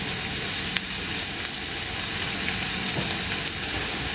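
Ginger frying in a pan, a steady close crackling sizzle with occasional sharper pops, continuous and alone without voices.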